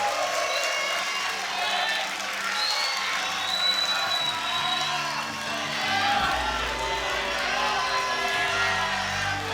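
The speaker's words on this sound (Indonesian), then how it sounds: "kepada seluruh pendukung mari kita berikan tepuk tangan dan semangat kepada para calon" Audience at a debate for general chair candidates of BPP HIPMI applauds and cheers, a steady, dense wash of clapping and whoops under an announcer's voice.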